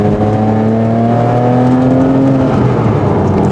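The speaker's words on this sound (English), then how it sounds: "let's put it into this corner and see how it handles" A speed yellow Porsche Cayman S, rebuilt after a crash, heard from inside as it drives into a corner, its engine holding a loud steady drone with harmonics that rise slightly and then ease off as it settles.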